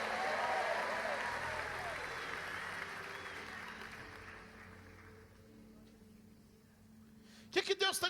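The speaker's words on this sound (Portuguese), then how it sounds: "Alguém pode dar um aplauso bem forte ao Senhor?" A Portuguese-speaking church congregation claps during a sermon, a crowd's applause that starts strong and gradually thins and fades, followed by a speaker's voice at the end.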